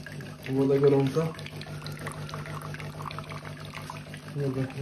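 Hot water pours steadily from a coffee machine in a continuous splashing hiss, with a voice talking over it at the start and again near the end.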